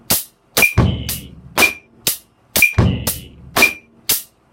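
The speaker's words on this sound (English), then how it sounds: "so the bass drum is on the E of 1." A simple drum-kit groove played in a repeating two-bar pattern: sharp snare and cymbal-like hits with a thumping bass drum landing just after the first beat, close and dry with no voices.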